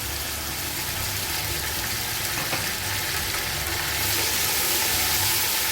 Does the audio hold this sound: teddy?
no